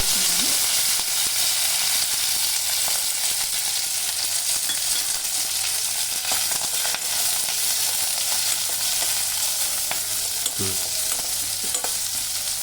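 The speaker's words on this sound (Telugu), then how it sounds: "ఉల్లిపాయని లైట్ బ్రౌనిష్ కలర్ వచ్చేంత వరకు మగ్గనియండి" Onions and curry leaves frying in a pan with mustard seeds, a continuous close hiss and crackle with scattered stirring scrapes and pops, steady throughout and free of speech.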